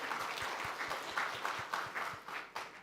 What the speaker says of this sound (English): a big round of applause for our two speakers